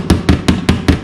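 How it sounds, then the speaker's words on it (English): Light hammer taps on stressed sheet metal to relieve tension, five evenly spaced, crisp metallic strikes close up and fairly loud, each ringing briefly before the next. "Tap lightly around to relieve some of that stress metal around, right?"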